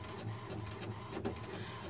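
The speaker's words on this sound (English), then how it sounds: "It keeps telling me that it's the wrong printer cartridge." An HP inkjet printer runs steadily, a low continuous mechanical whir and hum with faint shifting textures, heard alone at low level with no voices.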